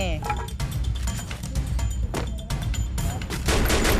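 Bursts of rapid gunfire from the Free Fire mobile battle royale game, dense and loud throughout, with repeated shots overlapping game sounds and people talking over it.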